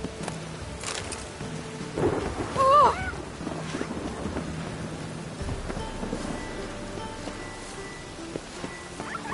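Steady rain in Witcher 3 falls as a constant hiss, with rolling thunder and a louder rumble near the middle and faint game sounds mixed in.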